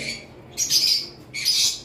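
Two bright, shrill conure chirps ring out one after another, close by and loud, each a sustained piercing call with a short gap between them.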